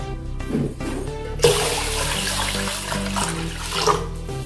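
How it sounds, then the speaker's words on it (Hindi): Water pours steadily from a tap into a bowl of washed mixed dal lentils, a continuous splashing rush that fills the whole short stretch. "अब इसमें हम पानी डालेंगे"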